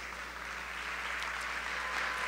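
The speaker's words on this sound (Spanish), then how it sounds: "Un aplauso y bienvenida para Eduardo Hernández." Faint applause from an audience at a bodybuilding and fitness gala final, a soft, even wash of clapping heard from a distance over a low steady hum.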